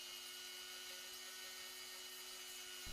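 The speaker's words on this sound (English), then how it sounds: "it's a case of using a rotary tool" A rotary tool shapes a rough-cut cherry wood pipe with light pressure, giving a steady high-pitched whine that runs unbroken and fairly faint before a brief low thump near the end.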